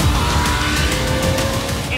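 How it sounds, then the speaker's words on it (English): A Lamborghini Gallardo's naturally aspirated 5-liter V10 revs hard in a loud, continuous roar with a steady mechanical drone for two seconds. "the big 5-liter V10 here is naturally aspirated, which means completely unadulterated by any turbos"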